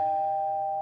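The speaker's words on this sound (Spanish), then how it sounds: "cuando tocó el timbre." A steady, loud electronic doorbell tone sounds continuously in a Garfield cartoon, one unbroken ring with no talk over it.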